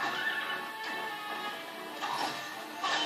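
Epona the horse whinnies in Zelda: Twilight Princess, a bright, wavering neigh rising over a dense backdrop of game sounds, with a second cry near the end.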